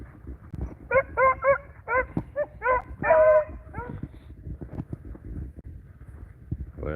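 Several rabbit hounds hunting in the wild bay and bark in quick overlapping bursts, fairly close, then trail off into quieter rustling and movement as the pack works the scent.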